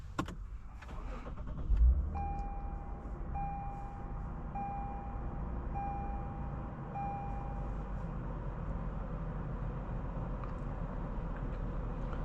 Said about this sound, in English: today we're going for a drive in this 2022 Lexus IS 350 F Sport